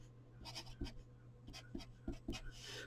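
Pen or marker strokes on paper or a board while eigenvalues of a matrix are written out, a run of short scratchy scribbles in an irregular rhythm, close and fairly quiet over a steady low electrical hum, with no talking.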